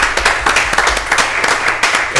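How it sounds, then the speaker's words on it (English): A small live audience at a design talk gives a round of applause for George Kiel, dense close clapping that holds steady and bright throughout with individual claps audible. "Get a round of applause for George."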